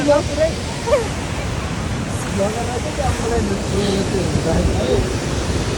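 The large Rupse Jharna waterfall in Mustang, Nepal, makes a constant broad rushing roar nearby, while several people talk over it.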